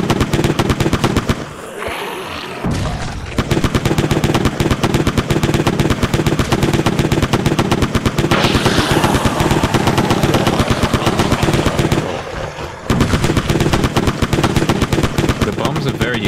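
A Tommy gun fires in rapid, relentless bursts in a Christmas video game, with explosive blasts layered in. The dense, loud fire runs almost continuously, broken by two short pauses.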